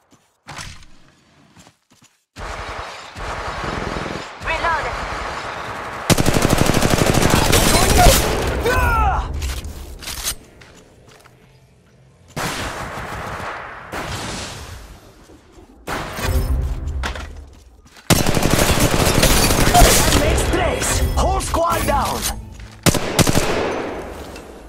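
Apex Legends Mobile gunfire, long sustained bursts of automatic weapon fire broken by short gaps, loud and close, with game effects mixed in and a voice briefly speaking.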